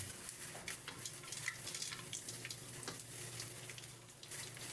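Dried anchovies (dilis) fry in oil in a pan, giving a faint, continuous crackling sizzle with scattered small pops and a low background hum, and no voices.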